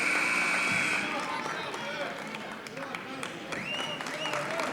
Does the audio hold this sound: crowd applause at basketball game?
yes